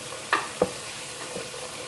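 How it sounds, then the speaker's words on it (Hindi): Masala for karhi pakora frying in a pan makes a steady close sizzle, punctuated by two quick stirring scrapes or taps early on and a softer one later. "मसाला हमने अच्छी तरह भून लिया है"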